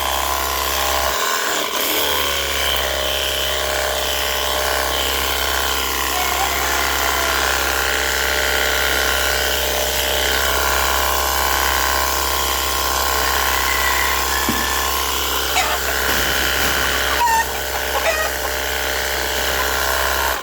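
An engine-powered farm sprayer runs steadily and loudly with a constant mechanical drone and rattling, its hose in use; faint rooster calls occur in the background.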